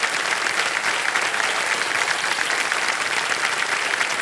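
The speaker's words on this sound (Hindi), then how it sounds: "तालियां बजती ना।" Studio audience applause on a television quiz show as a prize is won, sustained and dense clapping from a large crowd, loud and even throughout with no clear speech over it.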